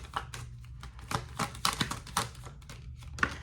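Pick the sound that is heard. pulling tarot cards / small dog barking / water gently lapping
pulling tarot cards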